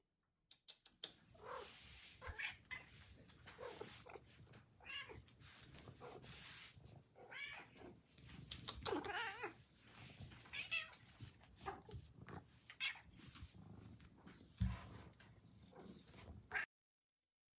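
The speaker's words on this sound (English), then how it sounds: "he's never heard my cats meow before" A pet cat meows loudly and repeatedly in a whiny series of drawn-out, insistent cries at close range, with brief pauses between calls and no talking.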